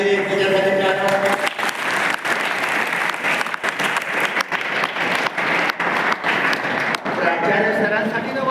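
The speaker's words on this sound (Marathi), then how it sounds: "पल्लवी यादवी एकमेकांसाठी टाळ्या वाजवा" An audience at a Mission IAS gathering claps for one another, sustained loud applause filling the whole stretch, with a voice speaking faintly beneath it toward the end.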